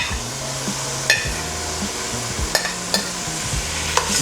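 Beef and carrots being stir-fried in a pan, with a steady sizzle and sharp clinks of a utensil scraping and tapping the pan every second or so, no talking.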